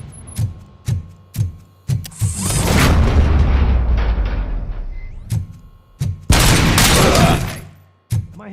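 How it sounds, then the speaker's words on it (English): Sharp gunshots in RoboCop: Rogue City crack out in bursts between stretches of heavy, sustained gunfire and booming, loud and close, with brief pauses between volleys. "Am I hearing gunshots?"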